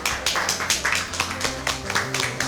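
A small group claps in short uneven bursts, close and fairly loud, over a faint background tone.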